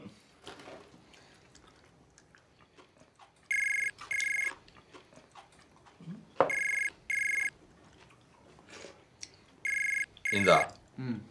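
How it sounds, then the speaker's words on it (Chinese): A telephone rings with an incoming call in a domestic drama scene, repeated paired electronic ring bursts sounding between stretches of conversation and faint household noise. "那丫头又给你打电话了。"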